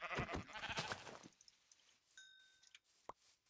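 Sheep in the video game Minecraft bleat in a brief burst at the start, followed by a few quieter game clicks and tones, with no talking.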